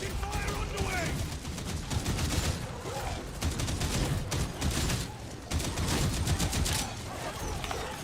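Dense, continuous gunfire from the video game Warhammer 40K Darktide, rapid automatic bursts packed tightly over the full eight seconds, loud and close, with a game voice briefly heard underneath.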